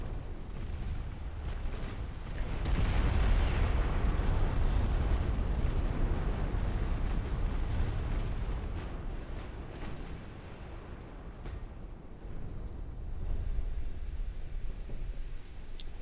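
Naval artillery in Ultimate Admiral: Dreadnoughts rumbles as a dense, continuous barrage of distant booms, swelling and fading over a low roar with scattered sharper cracks.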